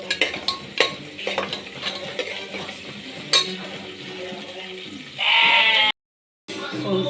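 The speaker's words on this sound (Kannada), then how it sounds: "ಶುಂಠಿ ಬೆಳ್ಳುಳ್ಳಿ ಚೆನ್ನಾಗಿ ಫ್ರೈ ಆಗಿದೆ." Ginger garlic paste fries in a pan with soft stirring clinks under a talking voice, then a louder burst of sizzling hiss near the end before a brief silence.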